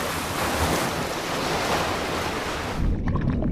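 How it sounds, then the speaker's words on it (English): Ocean surf surges in a rip current, a loud, continuous rushing wash of water with wind buffeting the microphone, ending in a low, churning thump. "Yet another surge of water rolls over the top of them"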